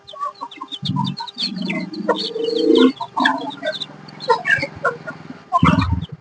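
Several free-range country chickens cluck and call close by, loud bursts of rooster and hen vocalizations overlapping in a busy farmyard of about seventy birds.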